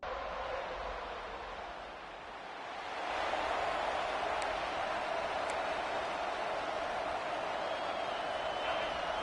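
Stadium crowd in EA Sports College Football 26 with the Florida State Seminoles, a broad continuous roar that swells partway through, with commentary talk over it.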